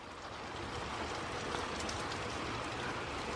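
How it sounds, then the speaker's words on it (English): Heavy rain pours in a dense, continuous roar during a storm with a tornado warning, 60 mph winds and hail, loud and steady throughout with no talk. "It's so rainy."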